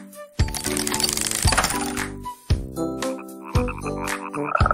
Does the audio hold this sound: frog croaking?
yes